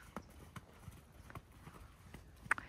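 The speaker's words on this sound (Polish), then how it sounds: "Jedzie koń, bo zaraz przejdzie do stępa." Hooves of a ridden horse trotting outdoors on a first ride outside, giving a steady, even clip-clop at a modest distance, fairly soft, with no voices over it.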